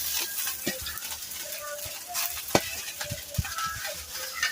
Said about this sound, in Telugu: ఇది కూడా వేయించేసుకుందాం మంచిగా.